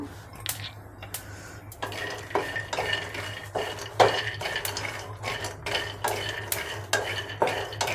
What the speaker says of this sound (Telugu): ఇప్పుడు మనము పల్లి చట్నీకి స్టవ్ ఆన్ చేసుకొని ప్యాన్ పెట్టుకున్నాను పల్లీలు పచ్చిమిరపకాయలు వేయించుకుందాము